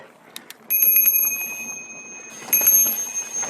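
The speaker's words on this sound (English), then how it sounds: "I like to ring that bell so any hikers aren't totally surprised when they see us riding down the trail" A bicycle bell on a mountain bike rung repeatedly in two bursts of bright, ringing dings on a Sedona trail, with faint wind and riding noise underneath.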